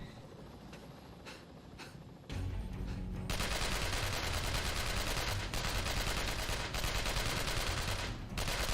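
Turret gunfire in the game Chernobyl Commando, starting with a quieter rumble and then swelling into a loud continuous rattle of rapid automatic fire with occasional sharper bursts, no voices.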